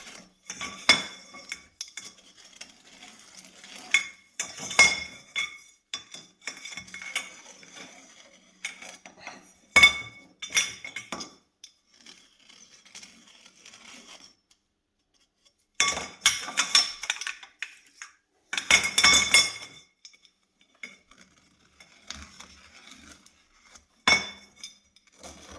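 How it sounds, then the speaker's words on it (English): Intermittent scraping and metallic clinks as the inside edge of a metal pipe end is deburred for a DIY camping table leg, coming in short bursts separated by quiet pauses, close up with no talk. "I'm just deburring the pipe on the inside"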